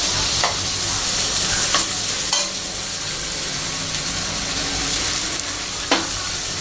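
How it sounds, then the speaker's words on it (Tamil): Beans sizzling in hot oil for vegetable fried rice, a loud, steady frying hiss with a few sharp clinks of a stirring utensil against the pan, close up and without talk. "ஆயில் சூடானதுக்கப்புறம் பீன்ஸ் போடணும்."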